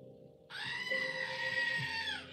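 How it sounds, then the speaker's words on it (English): A screaming goat toy lets out one long, loud, bleating human-like scream that holds steady for about two seconds before cutting off. "She literally got me a screaming goat."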